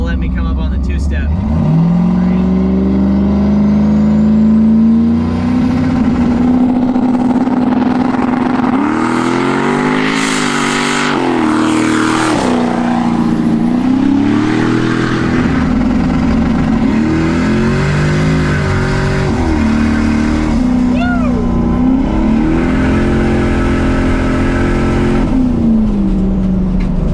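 A Foxbody Mustang engine held on the two-step at a drag strip roars loudly and continuously close by, its pitch climbing, dipping and surging again as the revs bounce for nearly half a minute.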